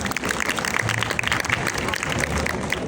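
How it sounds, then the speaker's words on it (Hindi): Applause from a crowd of students at an online coding class, a steady wash of clapping held at a even level throughout with faint voices mixed in. "उनके लिए भी भाई बहुत सारी तालियां"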